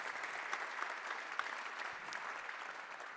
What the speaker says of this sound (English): Please give a round of applause to Jakobus Weichinger.